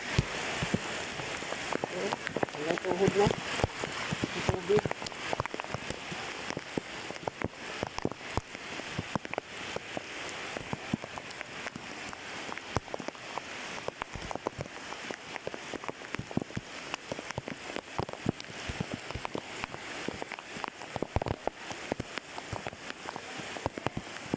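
Steady rain from Typhoon Carina in the Philippines patters on a surface throughout, a dense crackling hiss with scattered louder drops, continuing without pause.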